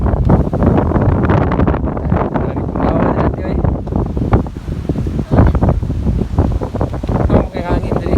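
Steady wind at the seaside in Sanary, France, a loud, continuous rush buffeting the microphone with a surf-like roar beneath it.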